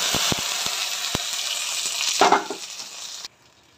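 A garlic and ginger mixture for saag fries in a pan, a bright steady sizzle broken by a few sharp clinks and a brief louder splash of hiss before it cuts off abruptly.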